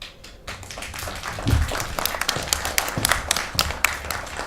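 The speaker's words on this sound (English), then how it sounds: "Spontaneous applause." Audience applause at a panel talk on journalists and mental health advocates, a steady patter of many hands clapping across the whole stretch with no voices.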